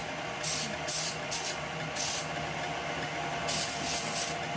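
Cooking spray hisses onto two cake pans in short bursts, several quick sprays followed by a pause and then more, close and crisp over a steady kitchen hum.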